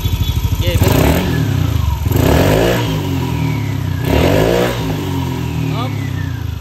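A Yamaha Aerox 183 scooter engine with DMRS cam bolt revs up loudly three times from a stable idle, each rev rising and falling in pitch, close by, with a steady chugging idle between the bursts.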